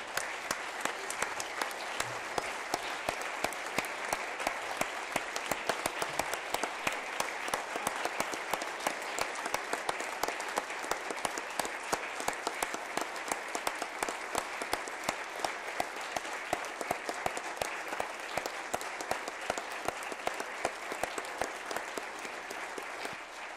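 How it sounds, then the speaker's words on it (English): A long standing ovation of dense audience applause honors a group of legislative pages in a state house chamber, continuous and even for over twenty seconds with no talk over it. "Let's stand and give each of these fine individuals a round of applause"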